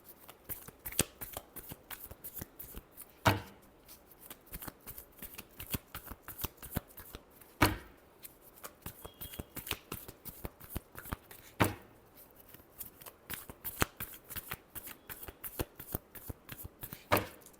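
A deck of tarot cards is shuffled by hand in quick, close riffling bursts, with a few sharper slaps among the light, rhythmic flutter and no talking.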